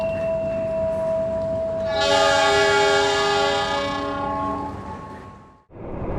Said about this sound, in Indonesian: baru saja perjalanan kereta api Bima meninggalkan stasiun Solo Balapan